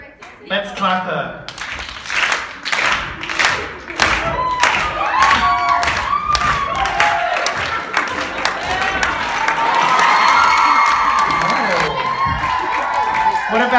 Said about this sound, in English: Let's clap her.